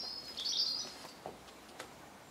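Gulls call outdoors, a bright burst of squawking followed by a couple of short sharp cries, moderately loud over a quiet background.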